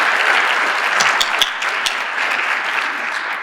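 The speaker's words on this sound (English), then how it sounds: "please give another round of applause to the wonderful dance team" At an MLK Day celebration, a crowd applauds a dance team with loud, steady clapping and a few sharper individual claps standing out.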